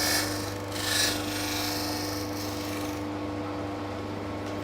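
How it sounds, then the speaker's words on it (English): An electric sander runs on a wooden frame clamped to a workbench, giving a steady, fairly close rasping hum with slight surges in the first seconds. "turn the sander on"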